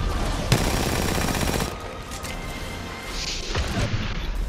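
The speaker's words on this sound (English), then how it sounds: "I'm just gonna keep throwing bullets." Rapid bursts of gunfire in a 007 video game firefight, a dense loud volley at first that drops to scattered shots and a faint mechanical whir, with no talking.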